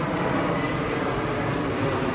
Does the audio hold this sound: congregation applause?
no